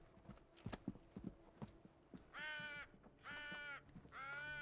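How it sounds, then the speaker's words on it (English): Bird in a Viking-era voyage video game, heard as three loud harsh calls in a row, each sustained and harmonic-rich, following a stretch of hoof-like clopping and ambient game noise. "Bird."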